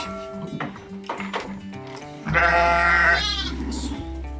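Lambs and sheep bleating at feeding time on a farm, several loud nearby calls starting softly and swelling into one long strained bleat, with low animal noise underneath.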